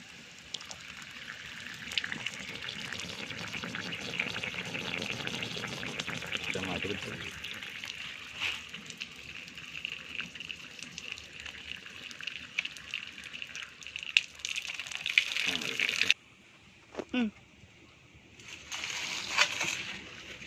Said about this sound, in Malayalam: ഈ ഓസിലേക്ക് വെള്ളം നിറയ്ക്കുകയാണ്.